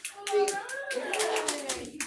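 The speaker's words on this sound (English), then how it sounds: "I wanna give Dee a round of applause" Staff at a shift meeting give a colleague a brief round of applause, scattered hand claps mixed with voices talking and calling out over the top.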